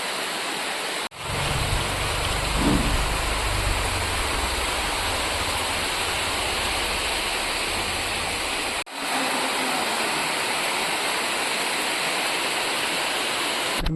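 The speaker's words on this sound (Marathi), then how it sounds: "मस्त पाऊस आलाय खूप जोरात." Heavy rain pours down in a steady, loud, dense hiss that fills the whole stretch, with a low rumble underneath early on and two brief dropouts; no one speaks.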